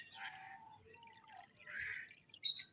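Liquid medicine or vaccine trickles and drips into chickens' drinking water on a village farm, a few quiet irregular splashes and dribbles up close with no talk.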